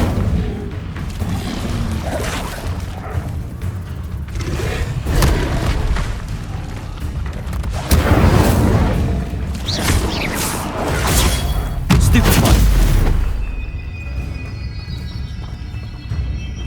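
Fire spell cast repeatedly during Hogwarts Legacy combat: loud whooshing bursts and booming blasts recur through the clip, with heavy impacts near the middle and a calmer magical shimmer at the end.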